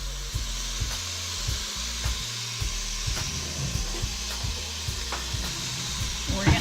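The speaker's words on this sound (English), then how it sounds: "You can probably hear that sizzling." Ground beef browning in a pot for stuffed pepper soup gives a steady low sizzle with repeated scraping knocks as it is stirred, close and fairly quiet.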